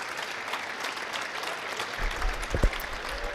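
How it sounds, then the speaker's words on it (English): Crowd applause during an on-court ceremony at a college men's basketball game in a gym: broad sustained clapping from the stands, somewhat distant and even, with a few louder thumps late on. "let's give them a nice round of applause to the 1982, 83, and 84 Capital men's basketball teams"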